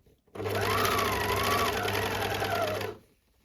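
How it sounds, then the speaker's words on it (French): An overlocker serges the seam allowance of a dress, a steady, close whirring run of about two and a half seconds that starts and stops cleanly. "vous allez surjeter votre marche de couture"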